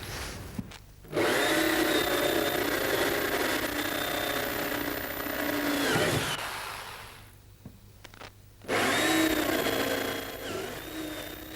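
Power drill with a flat-ended bit boring out spot welds on a car body panel, two long steady whirring runs separated by a quieter pause, close and fairly loud with no talking.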